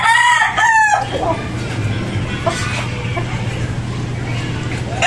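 Broad stag fighting cock crowing at a gamefowl expo, one loud close crow at the start and a second cut short, followed by background crowd babble and a voice talking over a steady low hum.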